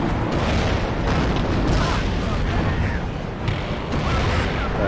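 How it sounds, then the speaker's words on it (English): Rocket impacts and explosions in the war strategy game WARNO, a continuous dense roar of booms and blasts rolling over one another, loud and close with no break. "they're actually getting a lot of rockets on target"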